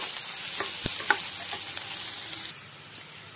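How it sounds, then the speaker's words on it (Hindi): Onions sizzle steadily in a pan for a spicy mutton and potato curry, with a few sharp spoon scrapes and clicks close by, no talking. "प्याज को हम हल्का सा ब्राउन कलर होने तक पकाएंगे।"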